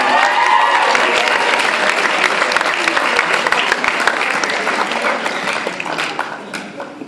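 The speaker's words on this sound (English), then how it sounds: "Let's have a massive round of applause for your form teachers" A school leavers' assembly crowd gives a loud, sustained round of applause for form teachers, with dense clapping and some cheering that slowly fades.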